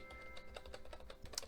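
Keys on a Razer keyboard are pressed in a quick, uneven run of close, crisp clicks and clacks, heard alone at low volume.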